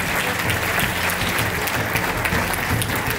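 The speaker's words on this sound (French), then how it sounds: "Merci de bien les applaudir." A seated audience at an awards ceremony breaks into steady, dense applause, many hands clapping together at an even level for the full stretch with no voices on top.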